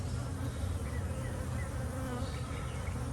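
Honey bees at beehives buzz in a thick, constant swarm drone, loud and near, unbroken for the few seconds heard.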